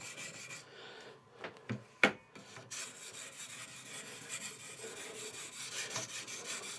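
Knife sharpened on an oiled Arkansas whetstone, close rhythmic rubbing and scraping strokes repeating steadily, with a few sharper clicks early on and no talking.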